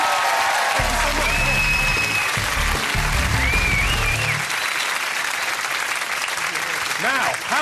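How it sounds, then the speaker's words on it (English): Loud studio audience applause on a comedy quiz show, a continuous roar of clapping with some cheering, while a low musical sting plays under it early on. "Round of applause. Matt and Mylene, everyone."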